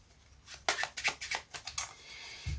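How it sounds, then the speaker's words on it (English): A deck of playing cards is shuffled up close in a quiet room, a quick run of soft riffling flicks and snaps lasting under two seconds, followed by a faint thump. "They'll shuffle their deck."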